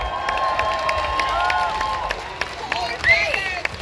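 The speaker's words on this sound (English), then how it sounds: "An applause for my father." A festival concert crowd at Francofolies cheers and claps for the singer's father, a lively mix of applause, whoops and crowd babble with a few sharp whistles near the end.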